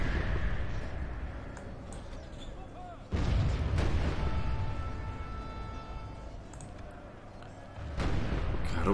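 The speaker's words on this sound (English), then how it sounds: "This is explosive rounds." In a Total War battle, artillery fires explosive rounds: heavy booms strike near the start and again around the middle and end, each rolling into a long decaying rumble over a noisy battlefield bed.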